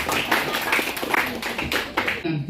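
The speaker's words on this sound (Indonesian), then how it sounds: "Wow, tepuk tangan dulu." An audience claps at a youth event on a third-floor stage, a brief burst of rhythmic, fairly close applause lasting a couple of seconds before fading.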